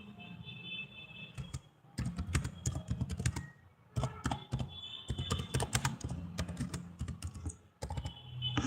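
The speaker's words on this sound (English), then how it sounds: "let me quickly type the number to call" Rapid clicking on a computer keyboard, close and distinct, comes in several bursts of fast typing separated by short pauses, with no talk over it.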